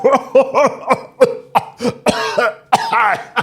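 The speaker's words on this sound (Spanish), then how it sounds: "La risa del alcalde se contamina de sí misma y acaba en un ataque de tos" A harsh coughing fit at close range: a rapid series of throaty coughs and hacks, coming in uneven bursts with short gasps between them.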